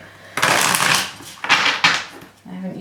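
Tarot deck shuffled quickly by hand, a few loud papery bursts of card riffling close to the microphone, with a brief pause between them and a soft voice-like sound near the end.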